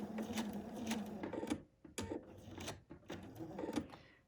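A sewing machine stitches along fabric in quick mechanical bursts, pausing briefly between short runs of rapid needle strokes, heard close and alone.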